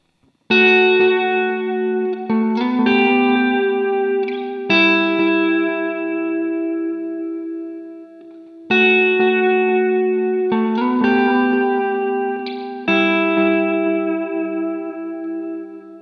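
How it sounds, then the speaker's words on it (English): NUX Tape Echo delay pedal with treble cut and bass boosted, a clean guitar played through it: sustained chords ring out and trail into warm, darker repeats, two similar phrases a few seconds apart, loud and alone. "Let's take down the treble and turn up the bass quite a bit and see how you can tailor the repeats"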